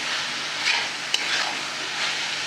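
Modak filling of coconut and jaggery being stirred and roasted in a pan, a steady soft sizzle with gentle scraping strokes and one sharp utensil tap, no voices.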